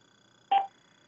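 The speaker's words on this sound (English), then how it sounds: "You heard the beep, and now we'll start talking." A single short electronic page beep from an office desk phone, clear and alone in a quiet room.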